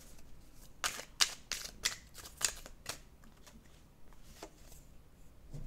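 Oracle cards are shuffled and drawn by hand, giving a series of crisp, close riffling snaps and papery flicks in short bursts, then quieter handling with occasional soft slides.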